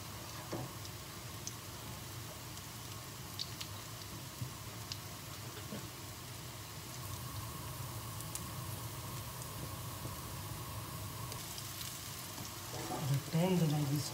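Zucchini slices fry gently over low heat in a pan, giving a soft, steady sizzle with faint ticking crackles throughout and a brief clatter near the end, with no voices.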